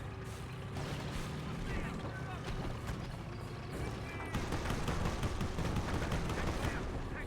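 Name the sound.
rocket and artillery fire in Company of Heroes video game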